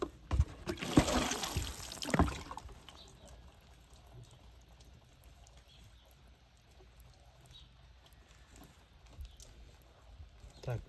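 Water poured over sand to soak it thoroughly, a burst of splashing and trickling near the start, then quieter dribbling and faint movement for the rest.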